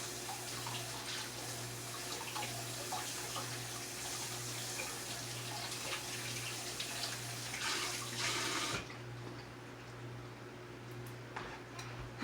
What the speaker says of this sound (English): I'm going to rinse my pot off and then rinse my plant.